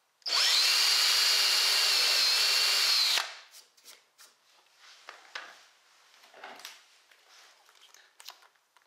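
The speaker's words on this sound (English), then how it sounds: "take my drill with my countersink and drill a bunch of pre-drill a bunch of holes" A power drill with a countersink bit whines loudly and steadily for about three seconds while pre-drilling holes in a bed frame, then stops, followed by scattered quieter clicks and handling noises.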